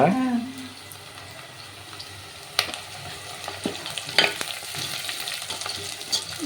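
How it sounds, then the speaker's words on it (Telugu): Masala with curry leaves fries in a pan for egg biryani, a soft continuous sizzle with occasional sharp clinks and scrapes of stirring, fairly quiet and close, no talk over it. "బాగా ఎర్రగా అయ్యేంత వరకు అయితే ఫ్రై చేసుకుందాం"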